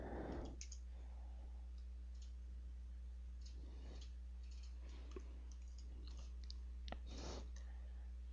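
Computer mouse clicking while working in CATIA software, a few scattered soft clicks over a constant low electrical hum.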